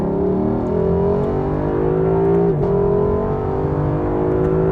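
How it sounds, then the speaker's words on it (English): A 2019 Lexus LC 500 coupe with a 471 hp naturally aspirated V8 revs loud and close, its tone climbing steadily, dipping sharply at a gear change and then pulling up again. "Oh, listen to it. Oh, it's so musical, this engine."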